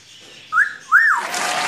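A pet parrot gives two rising-and-falling whistled notes in close succession, loud and near, imitating a trained phrase it was taught by whistling.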